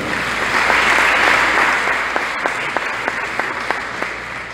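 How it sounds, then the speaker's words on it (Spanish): A congregation at a Neocatechumenal Advent gathering in Guayaquil, Ecuador, gives loud, continuous group applause, with a few sharp, close individual claps standing out in a loose rhythm toward the end. "Un aplauso."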